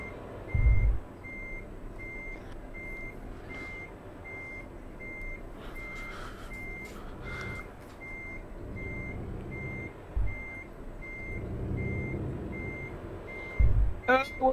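A truck reversing outdoors sounds a steady, evenly spaced backup beep throughout, over a constant engine rumble, with a few louder thumps and bursts of noise.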